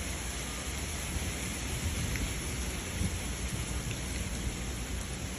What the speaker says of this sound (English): Hail transformed an entire street into a dangerous temporary ice rink